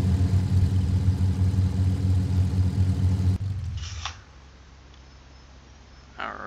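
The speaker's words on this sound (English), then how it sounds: "now I can just shut the engines down" Twin engines of a de Havilland D.H.88 Comet in Flight Simulator X shutting down: a steady, droning low-pitched idle runs loud and close, then cuts off abruptly, leaving quiet cockpit ambience with a couple of soft clicks.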